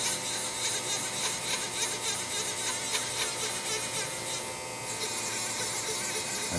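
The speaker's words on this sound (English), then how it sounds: "I'll jog the axes around manually so you can hear the ball screws." Ball screws on an Amada-Wasino Meister Pro CNC surface grinder whir steadily as the axes are jogged by hand, a continuous mechanical hum and rub with brief shifts in tone.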